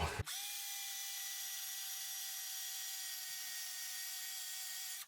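A power buffer whirs steadily against the back of a 1989 Washburn KC Ltd Chicago Series guitar with powder buffing compound, a high continuous motor whine that starts abruptly and runs unbroken, close by.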